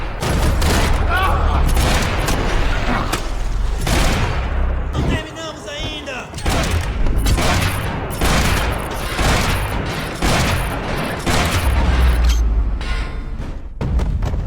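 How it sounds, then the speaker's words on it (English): Repeated gunfire bursts and heavy thuds from a video game shootout in a dining area, with loud shots, some rapid volleys and a brief lull midway, continuing dense and close throughout. "Another shootout in the dining area where I collect all the points from headshots humanly possible"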